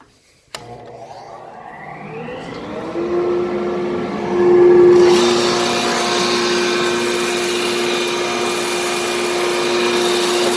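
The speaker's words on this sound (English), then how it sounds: "just turn the machine on and get the dust collector" Woodworking machine with a feed roller starting up alongside a dust collector in a workshop: a click, then a rising motor whine that settles into a loud, steady broadband roar with a sustained hum, with no talk.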